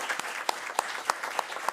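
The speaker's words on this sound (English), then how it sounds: "Let's give them a round of applause." A small round of applause at a board meeting, a few sparse, separate claps at a steady rhythm, fairly faint and brief.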